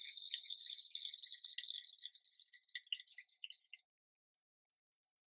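Fuel dribbles from the tank of a power washer, a close, crackly trickle of liquid that thins out and stops, followed by a few isolated drips in silence.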